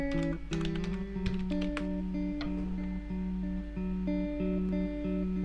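Keys tapped on a computer keyboard under Ubuntu, a quick run of light clicks near the start, then sparse taps over a steady background hum, close and fairly quiet, no voices.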